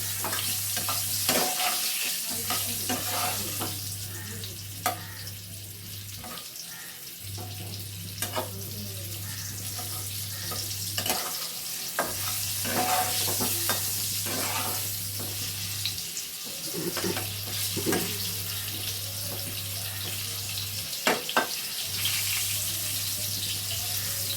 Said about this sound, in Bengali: এবার আলুগুলোকে তেলের মধ্যে দিয়ে আমি একটু ভেজে নিচ্ছি।